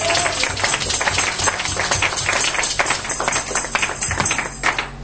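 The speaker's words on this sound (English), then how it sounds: "Come on, clap your hands again." A church congregation clapping hands in a steady rhythmic beat, loud and continuous throughout, with music and voices mixed underneath.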